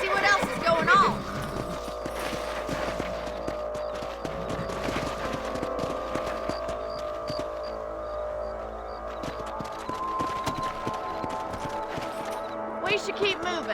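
Horse hooves clip-clopping at a steady trot in the Red Dead video game, rhythmic hoofbeats running under game dialogue and light background effects.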